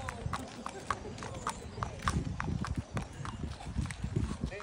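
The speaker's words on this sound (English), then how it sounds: "let's see what happens with this horse going by" Hooves clip-clop in a steady walking rhythm, passing close by, with people talking over them.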